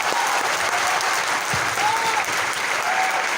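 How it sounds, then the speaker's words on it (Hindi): An indoor audience at a seminar applauds loudly in a dense, continuous burst of clapping that lasts throughout, with crowd noise underneath. "आपने जोरदार तालियां बजाइए आप।"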